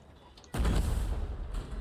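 An Avalanche cannon relic fires in a video game with a single heavy, booming blast that rolls on with a rumbling tail, loud and close.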